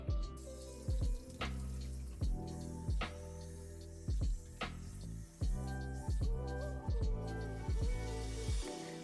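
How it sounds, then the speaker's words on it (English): A tap runs steadily while product is rinsed out of locs, a continuous close water rush broken by repeated low thumps and gurgling splashes as the flow is disturbed. "let's go rinse this out"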